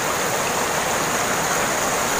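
River water flowing around a swimmer, a dense, steady broadband rush that is loud and close and continuous throughout, with no voices.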